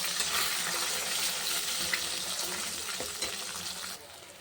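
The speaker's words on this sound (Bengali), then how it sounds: "এই দেখো ডিমটা ভাজা হয়ে গেছে" Eggs frying in hot oil in a pan give a steady, dense sizzle and crackle at close range, continuous and fairly loud throughout, easing slightly near the end, with no voices.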